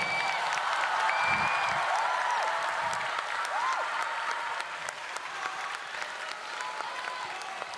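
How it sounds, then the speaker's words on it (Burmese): Audience applause fills a grand final live show of Myanmar Idol Season 3: steady, dense clapping from a large crowd that lasts the whole time, with a few brief whistle-like tones above it. "မောင်ချိုးတို့အားပေးလက်ခုပ်တမ်းများကြားပါစေ"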